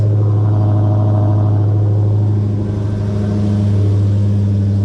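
A Dodge Challenger Hellcat that has sat unused for six months runs close by, its engine holding a loud, steady, deep idle rumble throughout.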